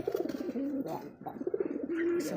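Domestic pigeons, desi Rajgolla and racer breeds, coo in repeated throaty rolling phrases, close and fairly loud, with a brief pause midway before the cooing resumes.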